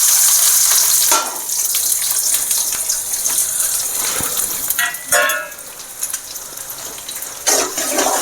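Small shallots, sliced for masala egg podimas, frying in hot oil with a loud, rushing sizzle that swells and dips in bursts as they hit the pan and are moved around.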